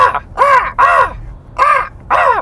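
People's voices imitate crows, letting out five rough, harsh caws in quick succession, loud and close, with short gaps between them.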